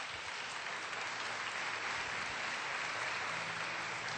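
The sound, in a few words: church congregation applauding the Gospel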